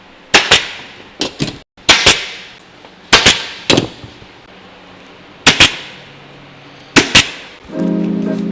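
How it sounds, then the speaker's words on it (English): Sharp, loud staple-gun shots fire in quick pairs and singles while an upholstery trimmer fastens a seat cover, spaced bursts with short gaps between them. "we are fitting the cover, and we're going to staple it on"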